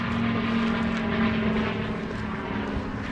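A propeller aircraft drones steadily overhead for the whole stretch, fairly loud and even, with no voices over it.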